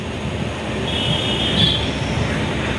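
A train at Varkala railway station, heard from inside a disabled coach on a Kerala Express, gives a steady close rumble with a faint high squeal of wheels rising midway, with no talking.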